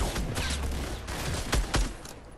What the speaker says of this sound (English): Shotty. Shotgun.